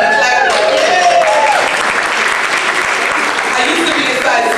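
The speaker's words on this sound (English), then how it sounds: "I see somebody clapping like, yeah!" Audience applause at a teen conference, a dense continuous wash of many hands clapping at close range, steady and loud throughout.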